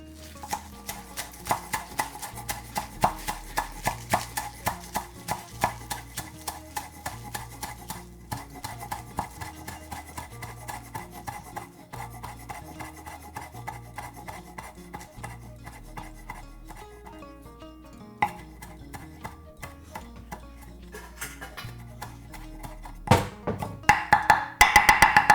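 A knife chops scallions on a cutting board in quick, even taps, close and crisp, the rapid rhythm running for a long stretch with brief pauses and a faster burst near the end.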